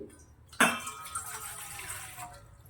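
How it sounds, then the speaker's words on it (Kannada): A cup of water is poured into a pot for pearl millet roti, a sudden splashing gush that starts abruptly, runs for under two seconds and trails off close by, with no speech. "ಸರಿ ಮಾಡೋಕ್ಕೆ 1 ಕಪ್ ನೀರು ಹಾಕ್ತಿದ್ದೀನಿ."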